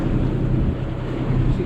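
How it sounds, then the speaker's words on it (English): A boat engine idling at roughly 1000 to 1200 rpm gives a steady, loud low rumble with wind and water noise over it, continuous and unchanging throughout. "Engine's just on tick over, slightly above, about 1200, maybe 1000 rather than that."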